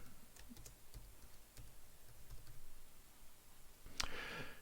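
Keystrokes on a computer keyboard while text is typed into a spreadsheet cell, a faint sparse run of soft clicks with a slightly louder burst near the end, quiet room, no talk.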